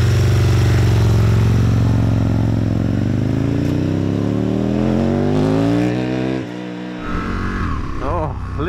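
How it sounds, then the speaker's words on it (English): An Aprilia RSV Mille R limited-edition sport motorcycle roars loudly on a road ride, the engine climbing steadily through the revs, dropping off briefly, then snarling back up close to the rider. "listen to that engine."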